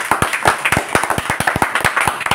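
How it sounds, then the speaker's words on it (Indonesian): An audience claps in unison during an Indonesian religious lecture, producing a steady run of sharp, evenly spaced hand claps that fills the whole stretch at close range with no talking over it. "Tepuk tangan untuk Nabi Isa."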